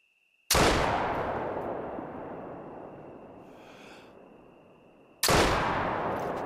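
Two heavy rifle blasts from a King 470DB double rifle in theHunter: Call of the Wild, each loud and sharp with a long rolling tail, the second following about five seconds after the first.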